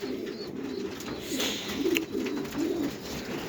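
Young pigeons give low, throaty coos nearby, several bubbling phrases rising and falling in a steady run, with light background hiss.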